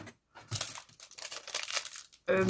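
Plastic packaging of press-on fake nails crinkles and rustles in short bursts close by, with a brief pause near the start.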